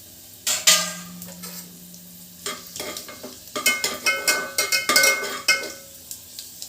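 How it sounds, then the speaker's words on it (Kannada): Red chillies fry and get stirred in a pan for chutney: scraping spoon strokes clink against the metal in an uneven rhythm over a close, crackling sizzle, with no talking. "ಇವಾಗ ನೆಕ್ಸ್ಟು ಕೆಂಪು ಮೆಣಸಿನ್ಕಾಯಿ ಹಾಕ್ತಾಯಿದ್ದೀನಿ"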